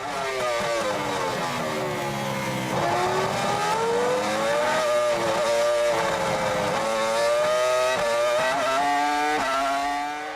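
2004 Formula 1 race cars at the Australian Grand Prix, a loud, sustained high-pitched engine scream with rising and falling revs through gear changes, steady and close throughout.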